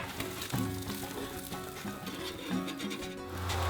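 Salmon fillets sizzle steadily on a grill with a dense, crackling hiss that holds throughout at moderate loudness, with no talk over it.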